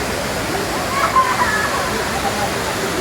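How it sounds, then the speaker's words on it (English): Monkey Falls waterfall on the Pollachi–Valparai ghat road pours with a steady, loud rushing roar, and a voice talks briefly over the water. "I can hear the falls, I can see the falls."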